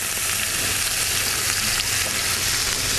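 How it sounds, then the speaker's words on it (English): Food sautés in olive oil in a Le Creuset cast iron pan, a loud, close, continuous sizzle and hiss that stays even throughout, with no talking. "while you're sauteing that, I'll get our stock going in our pot"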